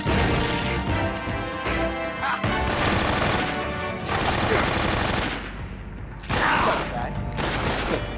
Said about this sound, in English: I felt that as I opened fire at him.